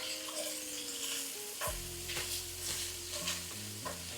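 Taco meat being stirred in a hot pan over lowered heat, a soft steady sizzle with a few scraping strokes of the utensil, fairly quiet and close, with some tonal background hum.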